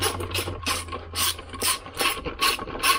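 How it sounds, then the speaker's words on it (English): A 7mm socket wrench tightens the nut on an upgraded front speaker in a Dodge RAM, giving about seven quick bursts of close ratcheting clicks in a steady back-and-forth rhythm. "Now I got a little 7mm socket, 7mm wrench,"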